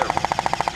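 Airsoft gun firing in rapid automatic bursts during a display battle at a tank museum, about ten evenly spaced snappy shots in under a second, close and loud.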